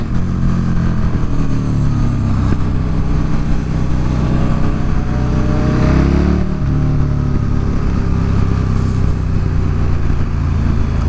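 A motorcycle ridden on a race track during a novice track day, its engine loud and close throughout with a continuous roar and rising, falling revs as it accelerates and shifts.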